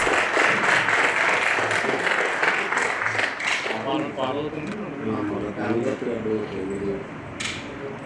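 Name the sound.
audience applause at MOU signing ceremony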